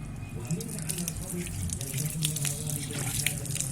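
Water is poured into a Honda GX160 engine, a steady continuous trickling and splashing stream running throughout with a low hum and some background voice beneath it.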